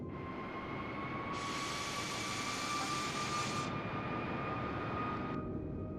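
A simulated airliner flies slowing toward 160 knots with another stage of flaps extended, its engines giving a steady broad roar with a sustained whine, and a brighter rushing hiss swells for a couple of seconds before fading back.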